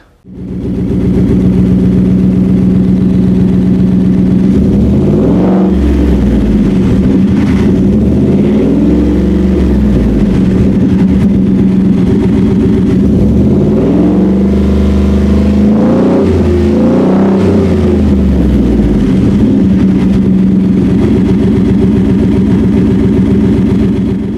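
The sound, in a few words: V8 truck engine with side exhaust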